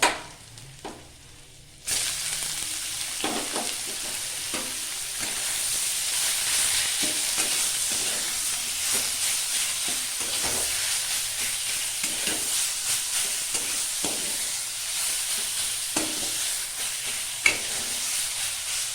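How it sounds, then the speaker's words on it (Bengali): Fenugreek greens drop into hot oil that already holds browned garlic and fried chilli, setting off a sudden loud sizzle that keeps going while a spoon scrapes and stirs close by in irregular strokes. "এরপর আমি শাকটা ঢেলে দেবো"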